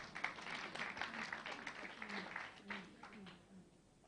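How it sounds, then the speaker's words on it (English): Audience applause at the closing of an ethical living project grand finale, a fairly quiet, steady patter of clapping that thins toward the end, with murmuring voices mixed in. "please give him a round of applause once again"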